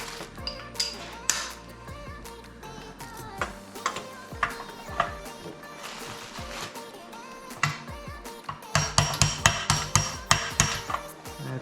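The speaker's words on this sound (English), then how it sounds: "Get it in there with your hand, and it's a couple of light taps." Light taps fit a part into a 2021 Yamaha YFZ450R ATV, sharp metallic knocks arriving in scattered single hits and then a quicker cluster near the end, close and distinct.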